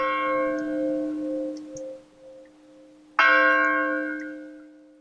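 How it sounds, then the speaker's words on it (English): Bells of a small Irish church ring the Angelus, a clear tonal strike that fades away, then a second louder strike rings out and slowly decays, with no one talking. "those are church bells from a little Irish church directly across from my house, sounding the Angelus."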